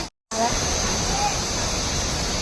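Loud, continuous roar of rushing water from Tad Yuang waterfall, steady broadband noise that starts after a brief silence and fills the whole clip.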